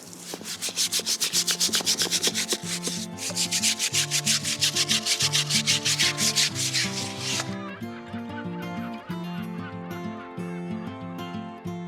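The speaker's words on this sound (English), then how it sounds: "So first thing this morning, we got some scrubbing to do." Brisk, rhythmic strokes scrubbing a boat in Cape Town rasp along steadily for about seven seconds over loud background music, which carries on alone after the scrubbing stops.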